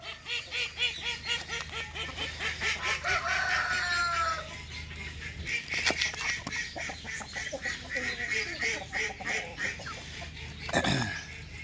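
Chickens cluck and squawk steadily close by, with a rooster's crow breaking through near the end over a low background hum.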